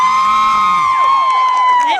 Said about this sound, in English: They know how to cheer.